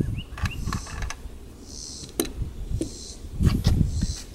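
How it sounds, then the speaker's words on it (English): A bronze bolt slides out of a Sten submachine gun during a field strip, giving soft metallic scrapes, clicks and rattles spread across a few seconds, close and moderately quiet, with no talk. "Now, we can take the bolt out the rest of the way."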